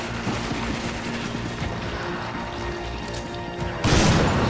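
Rapid volleys of video game gunfire crackle steadily throughout, with a heavier burst near the end, played under occasional faint voices.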